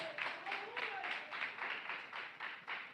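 A church congregation claps for Jesus of Nazareth during a sermon, a quick run of rhythmic, fairly faint hand claps.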